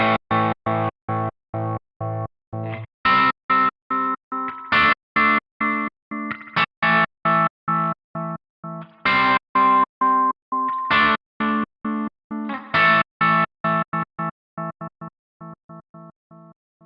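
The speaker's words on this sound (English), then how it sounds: "So we've just created somewhat of a kill switch." A distorted electric guitar plays chords that are repeatedly chopped into abrupt silences by a momentary kill switch on a Helix footswitch, producing a stuttering on-off rhythm of short bursts.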